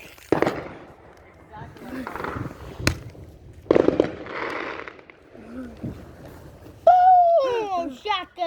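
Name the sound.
fireworks exploding outdoors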